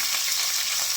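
Cumin seeds and whole spices sizzling steadily in hot oil in a pan, a dense, continuous close-up crackle with no voices.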